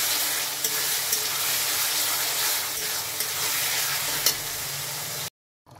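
Pangas fish curry with potatoes cooking in a pan, a loud, steady bubbling sizzle with faint occasional ticks, cutting abruptly to silence near the end.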